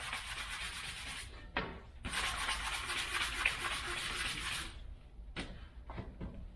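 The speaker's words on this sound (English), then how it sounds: "So I'm going to be sanding the whole paddle" Hand sanding of a varnished wooden canoe paddle with a sanding block: long, steady abrasive rubbing strokes, close and fairly loud, broken by brief pauses and a couple of short scrapes near the end.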